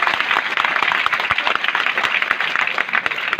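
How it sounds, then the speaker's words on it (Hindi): Audience applause honours a student's poem, a dense, steady wash of many hands clapping at moderate distance, continuous through the whole stretch with no voices over it. "सब लोग एक बार उबैदुर रज्जा को तालियों से सम्मानित करेंगे।"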